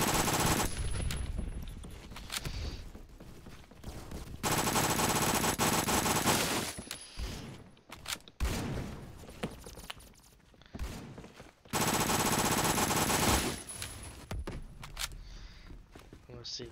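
Bursts of MP7 submachine gun fire in the first-person shooter game Phantom Forces, several loud sustained automatic volleys separated by short pauses, with a voice talking at times in between.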